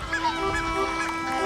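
Greylag geese give loud, nasal honks in a brief burst of repeated calls, close and clear against a faint background.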